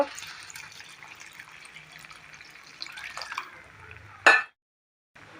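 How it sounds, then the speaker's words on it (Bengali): Water poured into green moong dal fried with a fish head and spices, a low splashing hiss under faint background noise, ending in a sharp loud burst before sudden silence. "এখন আমি অল্প করে জল দিয়ে দেব।"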